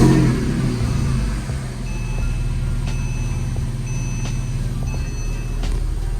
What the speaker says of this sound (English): if I turn on the car here at idle, it'll either have the same or less vibrations